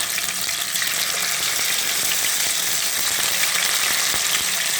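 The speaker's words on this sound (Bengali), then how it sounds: "তাহলে আমি সবগুলি মাংস একে একে লাল করে ভেজে নিচ্ছি" Chicken pieces frying in plenty of oil in a pan for chicken rezala, a loud, dense, continuous sizzle heard close up with faint clinks of stirring underneath.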